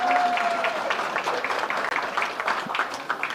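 Audience applause with scattered cheers at the opening ceremony of Caribbean Week in New York, a steady dense wash of clapping that carries on throughout without pause.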